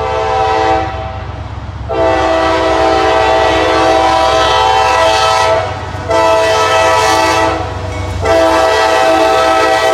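Norfolk Southern southbound mixed manifest freight train passing close and loud, sounding its horn in three long blasts with brief gaps over the steady rumble of rolling cars.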